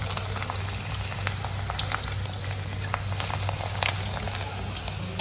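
Papad fries in hot oil, a continuous close-up sizzle scattered with sharp crackles and pops as the pieces puff up.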